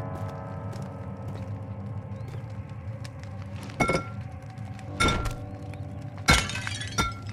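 Objects breaking and shattering in the horror video game Amnesia, with three sharp crashes of glass-like breakage over a low, steady ambient drone and faint clinks in between.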